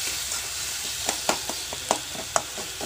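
Tomatoes sauté in coconut oil with a close, continuous sizzle, punctuated by a handful of sharp spatter pops and light stirring clicks.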